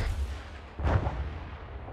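A single heavy boom from an SPG-9 recoilless gun in the ArmA military game, one sharp blast at mid-distance with a brief rumbling tail over a steady low background.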